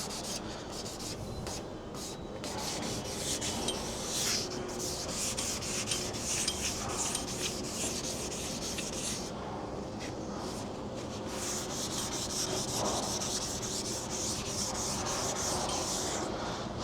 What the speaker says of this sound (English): I've got to sand a wider area again.